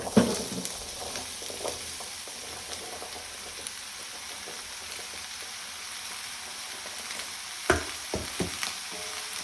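Vegetables fry in a pan for a vegetable and bean casserole, with a steady soft sizzle throughout and a few brief utensil scrapes and knocks from stirring, the louder clatter near the start and toward the end.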